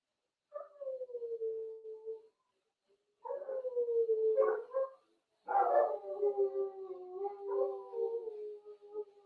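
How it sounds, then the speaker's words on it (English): Dogs on a farm howling in long drawn-out wails, three sustained bouts with short gaps between them, loud and near, with no talk over them. "The dogs are going crazy here at the farm."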